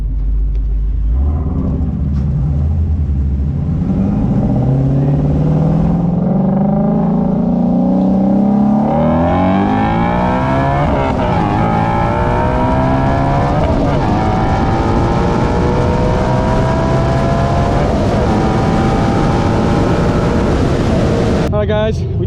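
A Ford Mustang GT350 accelerating hard in a roll race, its engine climbing steadily in pitch through repeated gear pulls, loud, close and roaring without a break, with wind rush underneath.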